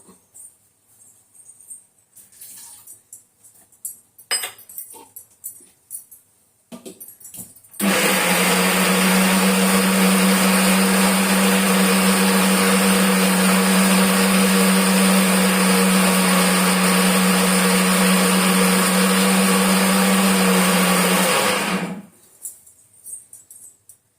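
A mixer grinder runs steadily for about fourteen seconds, grinding soaked cashews into a fine paste, a loud continuous whir with a strong hum, starting and stopping abruptly amid quieter kitchen sounds.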